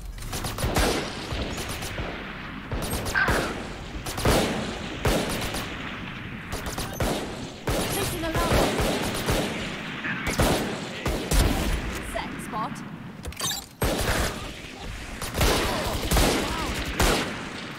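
Turret gunfire in a shooter video game at night: dense, rapid bursts of shots rattling almost without pause, loud and close, layered with booming impacts throughout.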